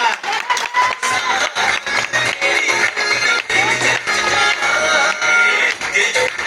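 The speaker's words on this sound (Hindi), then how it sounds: "एक बार आंटी के लिए जबरदस्त तालियां" An audience at a travel marketing seminar gives a rousing round of applause for an elderly auntie, loud dense clapping with cheering and shuffling throughout, rippling in waves with brief dips.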